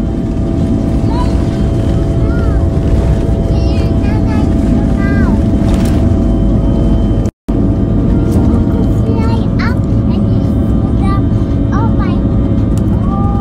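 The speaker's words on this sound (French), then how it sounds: "On est en train de décoller" A private jet taking off, its engines giving a loud, steady roar from inside the cabin, with voices faintly over the noise and a brief dropout midway.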